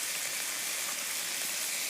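Tomato and chilies frying together in oil in a pan, producing a constant soft hiss like light rain, close and uninterrupted, with no voices.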